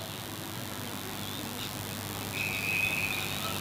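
Umpire's whistle at an Australian rules football match in the Adelaide Footy League, a single sustained shrill blast of about a second over steady crowd and ground ambience.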